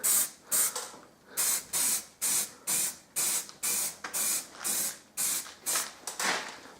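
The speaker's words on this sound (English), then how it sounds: "So then we're going to go ahead and paint with some primer." Primer sprayed onto a Toyota Supra brake caliper in a steady run of about a dozen short, even hissing bursts from a spray can, close and crisp, with no talking.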